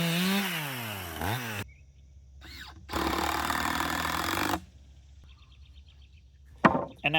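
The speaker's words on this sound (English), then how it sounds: "Just use a chainsaw." A chainsaw revs loudly for a couple of seconds cutting wooden posts for a farm stand, drops to a quiet idle, then cuts again for about two seconds before a brief knock.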